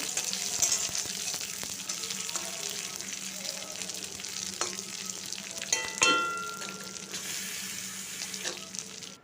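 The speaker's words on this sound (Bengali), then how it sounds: "রসুন কুচিটা দিয়ে দিলাম, দিয়ে রসুনটা একটু লাল করে ভেজে নেব" Chopped garlic frying in oil before water spinach greens go in, a continuous sizzle with scattered spatters and a few scraping stirs, one louder clatter near the middle.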